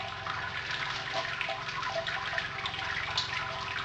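Water pours steadily from a jug holding about 1.5 litres into the top of a Brewzilla brewing unit, a continuous close, even splashing stream with no talk.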